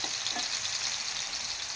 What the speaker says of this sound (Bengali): এখন ভাজতেছি